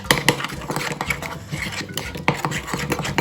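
Fish being mixed by hand with a lime juice rub in a bowl, giving close, busy wet squelches and clinks of the dish in a quick irregular rhythm, with no talking.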